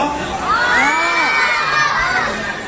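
A crowd of voices shouts and cheers loudly and continuously, rising and falling in pitched whoops throughout, heard close and without clear speech.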